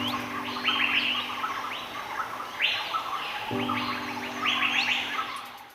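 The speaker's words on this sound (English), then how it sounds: "comes a monarch of the air, a bird as ancient as the trees themselves, the great hornbill" A great hornbill calls in jungle, giving repeated loud, harsh squawking bursts in rhythmic phrases against a continuous background of insect and forest ambience, no voices.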